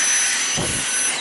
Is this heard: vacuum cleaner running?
yes